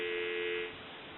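Steady dial tone from a Western Electric Spacesaver telephone, a faint continuous hum heard alone for about a second before it drops slightly in level.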